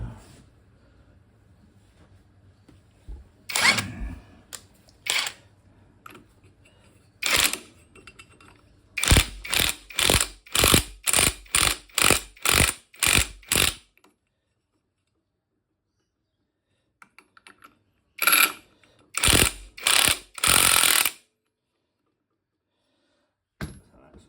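A ratchet tightens a nut on a 2002 Yamaha YZ250F motorcycle engine during a top-end rebuild, sharp rapid clicking bursts in quick regular series separated by quiet pauses, close and crisp in an otherwise silent space.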